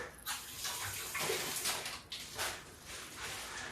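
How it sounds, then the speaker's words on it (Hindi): Tap water running over a knife being washed in a kitchen sink, a faint continuous splashing broken by short bursts and clinks. "चाकू मैंने धुल लिया है"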